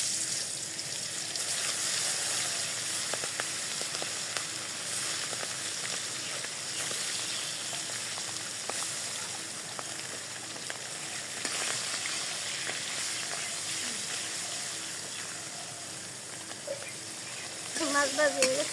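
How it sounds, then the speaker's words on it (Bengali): Fish frying in hot oil in a village kitchen gives a steady, dense sizzle that runs unbroken and fairly loud throughout, with a brief clatter near the end. "আমার তেল গরম হয়েছে, এখন মাছ দিয়ে দিই।"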